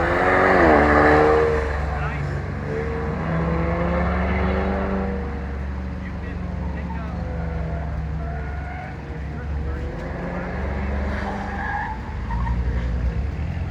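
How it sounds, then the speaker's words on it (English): Automatic Ford EcoBoost Mustangs work an autocross course with squealing tires and skidding, engines rising and falling nearby, under someone's voice. "we did some awesome driving, as you can see here, utilizing all automatic EcoBoost Mustangs"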